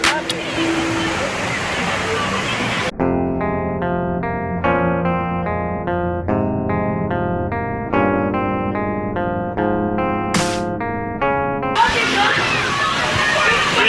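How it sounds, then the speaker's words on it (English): Water splashes and rushes loudly at a Six Flags White Water park ride, with the noisy surge heard at the start and again near the end, while a stretch of music fills the middle. "Big dog out here getting splashed."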